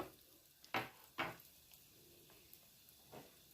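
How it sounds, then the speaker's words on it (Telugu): Mustard seeds spluttering in hot oil while tempering for amla pickle, a few sharp crackling pops over a faint sizzle. "తర్వాత ఆవాలు చిట్పట్లు ఆడాలండి"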